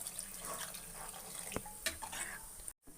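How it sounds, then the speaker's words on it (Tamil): Water pours into a pan of dried fish curry (karuvadu kuzhambu) during cooking, a soft, steady trickle with faint splashes and a brief clink, quiet overall and cut off abruptly near the end. "தண்ணி நான் இன்னும் கொஞ்சம் ஊற்றிக்கிறேன்"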